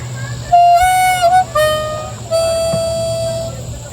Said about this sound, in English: But we're gonna start off harmonica with a 4 draw bent, and it should sound like this.